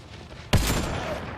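A single sharp rifle shot in Mass Effect Andromeda, loud and close after a quiet ambient lead-in, followed by a ringing, reverberant tail.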